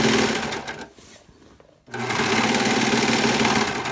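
Close, loud serger sewing machine runs steadily, stitching and blade-trimming the fabric edge of a ribbon skirt, pausing briefly for about a second before whirring again at full speed.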